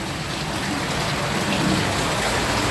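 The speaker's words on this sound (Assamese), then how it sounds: "বৰষুণ দি আছে চাওক" Heavy rain pours down in a dense, steady hiss, loud and unbroken throughout.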